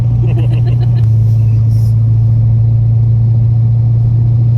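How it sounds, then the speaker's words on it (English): Inside an engine-swapped Corvette C6 Z06 on the move with the exhaust open, a loud, steady low drone fills the cabin and never lets up. "It's a little drony with the exhaust open."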